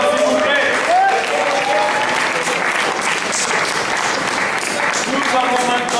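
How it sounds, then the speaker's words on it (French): An audience at a slam poetry final applauds a slam poet, dense sustained clapping filling the room steadily for several seconds. "On applaudit très fort le Slammer, s'il vous plaît."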